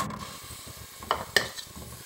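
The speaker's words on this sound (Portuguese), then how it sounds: "agora a gente vai colocar o bacon" Bacon sizzles in a pan with a spoonful of oil while being fried for feijão tropeiro. A steady crackle runs throughout, with a couple of sharper stirring clinks near the end.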